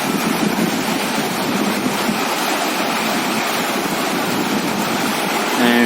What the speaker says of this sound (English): The water is coming out from the spring, a Chabal spring, and it goes.